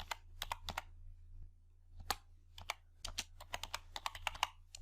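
Keys clack on a computer keyboard in short, quiet bursts of separate clicks with brief pauses, close and alone.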